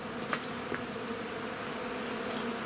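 Honeybees buzzing in a dense, steady drone around honeycomb frames set out to dry under a shelter, a close continuous hum with occasional louder passes of single bees.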